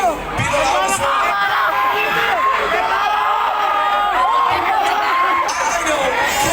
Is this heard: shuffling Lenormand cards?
no